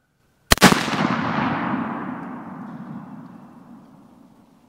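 A single sharp gunshot at a shooting range, loud and close, followed by a long rumbling echo that fades over several seconds.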